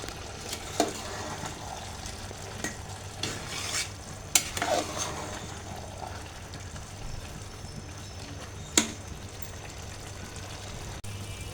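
Beef bhuna khichuri is stirred in a pot, with intermittent scraping and clanking of a spoon against the metal over a low, soft sizzle, no talking.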